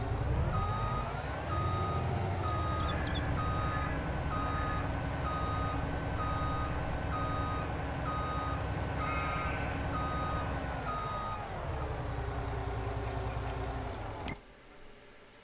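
A truck's reversing alarm beeps steadily and loudly in a regular repeating pattern over the rumble of its engine on a farm during harvest, continuing for most of the stretch before cutting off near the end.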